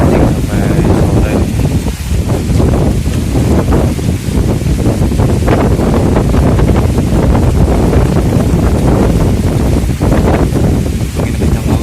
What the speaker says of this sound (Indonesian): Angin kencang banget.